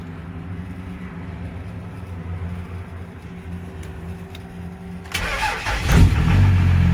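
A Cummins diesel engine cold-starts after a stretch of quiet lift-pump hum, cranking and catching into a loud, rough idle that rises as it settles.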